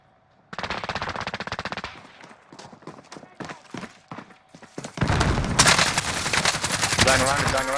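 Rapid automatic gunfire from a gun in the Warzone video game, loud bursts up front that break into scattered shots, then a dense, sustained volley of fire near the end.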